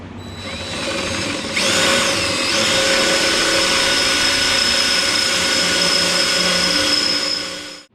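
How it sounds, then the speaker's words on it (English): A power drill whines steadily for several seconds, loud and close, drilling holes in engine mount plates for a 1973 Chevrolet Nova, with a high-pitched grinding tone that winds down at the end. "we got the holes drilled"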